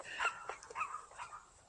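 A dog out on a neighborhood street gives a few quick, excited yips and barks, faint and somewhat distant, clustered in a short burst.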